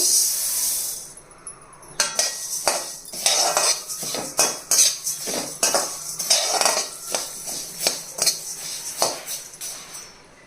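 Moong dal, cinnamon pieces and coriander seeds dry-roast in a pan as a metal spoon stirs and scrapes steadily, a run of close, rhythmic clinks and rattles with no talk.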